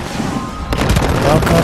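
A loud burst from an explosion in the video game Far Cry 5 cuts in about midway, with broadband noise and rumble over ongoing game sound.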